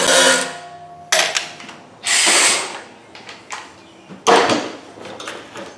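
Power tool loosening and removing a 13 mm bolt from a leaking condenser on a Chevrolet 1500/Tahoe, heard as several separate loud whirring bursts of an impact driver or drill with brief gaps between them.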